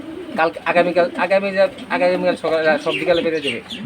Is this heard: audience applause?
no